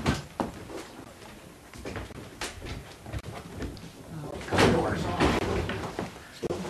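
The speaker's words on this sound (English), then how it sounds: "I'm going to close the closet so I can shoot this angle." A closet door is pushed shut indoors with several knocks and thuds, the loudest bang near the end, while people talk over and around it.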